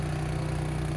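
A Honda snowblower's engine labouring as its auger pushes into wet, heavy snow, a steady low droning hum with a fast pulsing throb, close and continuous over one second.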